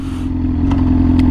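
Yamaha R6 sport motorcycle fitted with a very loud aftermarket exhaust, idling with a steady, heavy low rumble and throbbing close to the listener, with faint clatter on top and no one speaking.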